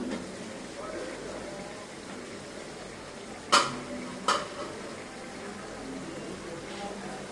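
Potatoes being stirred in a pan for an egg and potato curry: a low, steady sizzle with two sharp metallic utensil knocks against the pan partway through, close and moderately loud.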